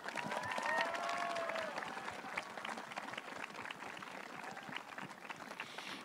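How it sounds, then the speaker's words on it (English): A community audience at a Christmas awards event gives concert performers a round of applause, a broad, steady patter of many hands slightly distant, with faint voices and a brief whistle-like tone early on. "Could everyone please join me in giving our wonderful performers another massive round of applause?"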